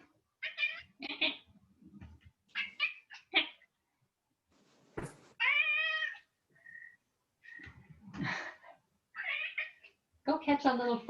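A chatty house cat meows repeatedly during a home yoga session, several drawn-out, tonal meows close by, interleaved with a woman's calm speech.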